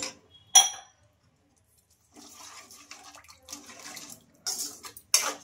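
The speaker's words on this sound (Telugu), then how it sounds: "ఇంకా ఇప్పుడు ఇందులోకి గ్రేవీకి సరిపడినంత వాటర్ కూడా వేసుకోవాలి." Water poured into a pan of potato curry being made for gravy, arriving in short splashy bursts with clinks of the pan between pauses, close by and fairly loud.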